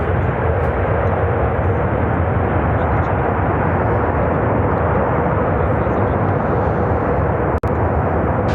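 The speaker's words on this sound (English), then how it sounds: "This is American Airlines Flight 111 coming in from Rome, Italy on the 787-8 Dreamliner" An American Airlines Boeing 787-8 Dreamliner arriving from Rome lands at Chicago O'Hare, giving a loud, steady broadband jet roar that holds throughout with one sharp click near the end.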